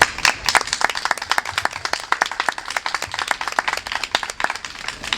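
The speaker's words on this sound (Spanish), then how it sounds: "le damos un fuerte aplauso a Miriam Kita Gorban" Audience applause for speaker Miriam Kita Gorban at a food-sovereignty talk at a fair, many hands clapping briskly and steadily, fairly close and loud, with no speech over it.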